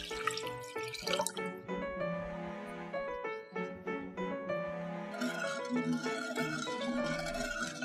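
About 1.5 liters of water pour steadily into a pot for a dessert jelly, making a close, continuous splashing and gurgling stream with no talking.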